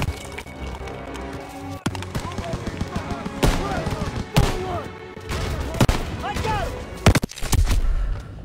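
Machine gun fire in the World War II shooter Call of Duty WW2, during a campaign battle at a barn: sharp bursts and booms crack repeatedly over battlefield noise, while soldiers shout under the gunfire.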